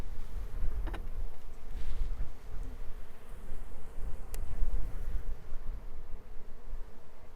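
Honey bees in a shipping cage, opened during installation into a hive, give a dense, continuous buzzing hum up close, with faint handling clicks now and then.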